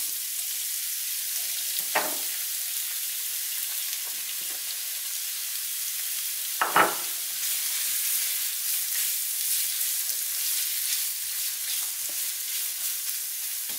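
Onions sweating in butter in a pan give a steady, quiet sizzle and hiss, with two brief utensil clicks early on and no voices.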